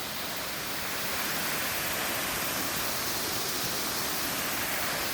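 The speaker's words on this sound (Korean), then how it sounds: "이 물소리 한번 느껴보시죠." Clear mountain stream water flowing on Chiaksan in early spring, a steady, full broadband rush of running water close by, continuous and unbroken with no voices.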